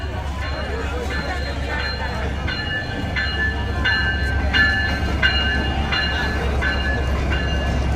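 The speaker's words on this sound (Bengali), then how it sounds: "ট্রেন যাচ্ছে" A train passes close by near a market in Bangladesh, with a continuous loud rolling roar and sustained high-pitched squealing tones throughout the whole stretch.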